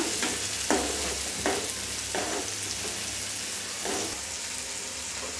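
Tomatoes are sautéed in a pan until soft while making zunka, a loud continuous hiss of frying with a few regular spatula strokes scraping the pan, close up and without speech.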